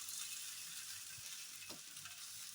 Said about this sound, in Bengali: এরকম একটু লাল লাল করে ভেজে নিতে হবে এটাকে